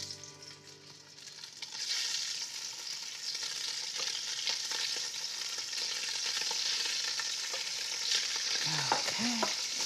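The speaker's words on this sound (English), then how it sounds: "First, I want to sear off the shrimps and the scallops" Shrimp and scallops sear in hot oil for a seafood brodetto, giving a steady, close sizzle and crackle with stirring scrapes throughout and a couple of brief utensil squeaks near the end.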